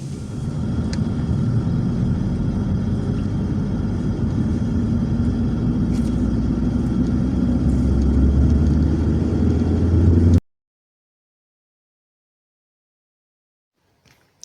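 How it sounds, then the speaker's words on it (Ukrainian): Inside a taxi riding into town, a steady low engine and road rumble with faint occasional clicks that continues for about ten seconds, then cuts to near silence. "Це ми їдемо в місто вже на таксі"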